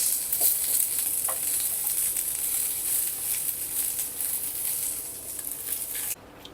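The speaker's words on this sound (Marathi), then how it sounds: "कांदा छान लालसर होईपर्यंत आपल्याला भाजून घ्यायचा आहे." A medium onion, sliced lengthwise, sizzles and crackles steadily in a hot pan while frying until reddish brown, with occasional stirring scrapes, close and continuous without speech.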